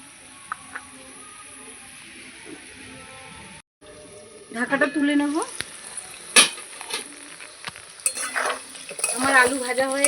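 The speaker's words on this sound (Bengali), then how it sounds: "এই যে লাল লাল করে ভেজে নিয়েছি এবার তুলে নেব" Something being fried red in oil in a pan and stirred with a metal utensil, giving crackling sizzle and scraping clinks that grow louder in the second half, with a brief silent gap near the start.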